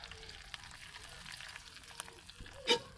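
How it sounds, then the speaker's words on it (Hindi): Hot ghee with browned onions poured into yogurt gives a faint, soft sizzle and crackle with a brighter splash near the end, heard close with no talking. "घी प्याज समेत ही जो ब्राउन की है ये दही में ऐड कर देंगे।"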